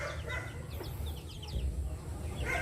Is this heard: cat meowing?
no